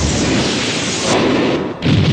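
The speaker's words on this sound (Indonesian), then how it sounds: "Daisatan pun meledak." A loud, rumbling explosion with a broad roar that stays heavy throughout, then bursts up again with a deeper boom near the end, from the Zyuranger tokusatsu series.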